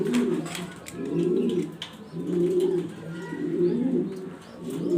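German Beauty pigeons in Andalusian colour coo steadily in a repeating rhythm of low, throaty pulses with short pauses, close by and clear, and faint chirps sit in the background.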